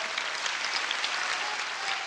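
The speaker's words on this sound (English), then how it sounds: "Give him a round of applause." Steady, dense applause from an audience at a Nation of Islam gathering in Los Angeles, a continuous wash of many hands clapping at even loudness with no voices.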